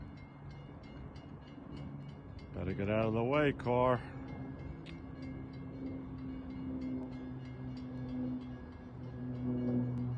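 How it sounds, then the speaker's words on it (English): A Long Island Rail Road passenger train rumbles past a grade crossing at Mastic-Shirley with a steady rolling roar, its horn sounding in two loud blasts early on while a person talks over the noise. "Here comes our train."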